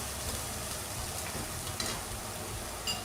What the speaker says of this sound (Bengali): এবার আমি শুকনো মরিচের এই তেলের ভিতরেই পেঁয়াজ দেব, পেঁয়াজ বেরেস্তা করার জন্য।